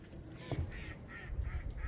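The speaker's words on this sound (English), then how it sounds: "There's our duck family." A family of ducks quacks outdoors at a coastal property in Hatteras, North Carolina, faint scattered calls over steady wind-like background noise.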